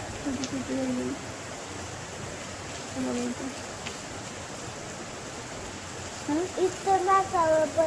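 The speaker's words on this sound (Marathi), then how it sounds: "मोठा पाऊस यायला लागलाय" Steady, dense rain hisses throughout, with faint bird chirps and a voice briefly speaking in the background.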